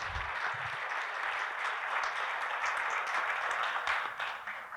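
Audience applause at an executive round table on HR from a CEO's perspective, welcoming guest speaker Dr. S.K. Raijadas; steady dense clapping from a room full of people, fairly loud throughout and tapering slightly at the end.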